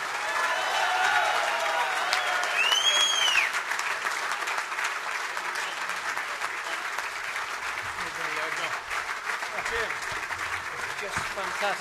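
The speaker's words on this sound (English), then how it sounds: "Applause." Dinner audience at a football team's treble anniversary celebration breaks into sustained applause, loudest early and then holding steady, with a voice speaking over the clapping.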